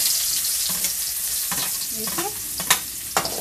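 Onion fries in oil seasoned with asafoetida, crackling steadily close by with a few louder pops and spatula scrapes, and someone says a brief word over it.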